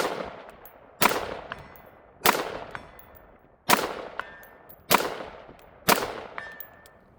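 Six sharp shots from an AR pistol at a shooting range, each followed by a ringing metallic clang off steel targets, fired at a steady pace roughly a second or more apart, loud and close.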